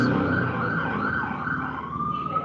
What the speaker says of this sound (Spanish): Está pasando la ambulancia y no me escuchan bien.